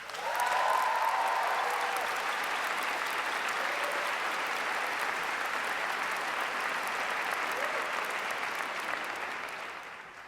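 Loud, sustained applause from a large crowd at the 2012 Emerson College undergraduate commencement, with scattered cheers and whoops rising from the clapping at first, then holding steady for about ten seconds before easing off.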